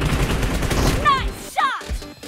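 Quick close gunshots in a PUBG Mobile team deathmatch, a fast cluster of sharp reports packed into a couple of seconds, with a voice speaking over the firing.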